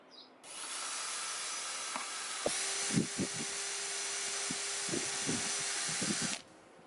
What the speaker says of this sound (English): we're just going to pre-drill holes into the wood, put these in